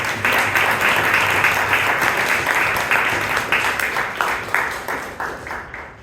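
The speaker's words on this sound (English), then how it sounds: "please give Imtiaz a big round of applause" A room of members at a Bangalore Toastmasters club meeting gives sustained applause, even and continuous, thinning slightly toward the end.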